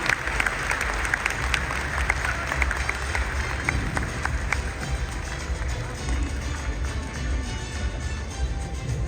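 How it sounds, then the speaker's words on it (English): Large audience at the Waves Summit 2025 breaks into steady, dense applause as a guest is welcomed on stage, loud and continuous throughout without pause. "big round of applause"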